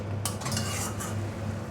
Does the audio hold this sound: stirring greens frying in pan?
yes